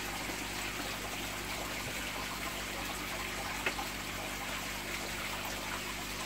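A small aquarium pump in a shrimp tank is shaken underwater to release trapped air, giving a continuous close-up watery trickle and gurgle with steady hum beneath and a brief knock partway through.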